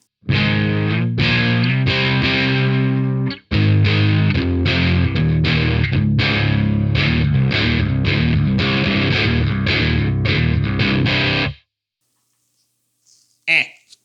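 An electric guitar played clean through a Coolmusic Multiple pedal runs through chords for about eleven seconds, with a short break near the start, then stops and the sound rings out.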